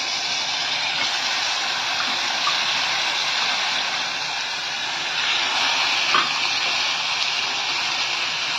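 Chicken pieces sizzling in hot oil, a steady loud broadband hiss that stays fairly even throughout with small crackles.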